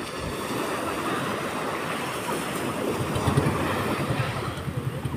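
Ocean waves wash onto a beach in Iba, Zambales, a steady broadband roar of surf with wind buffeting the microphone, continuous and fairly loud throughout.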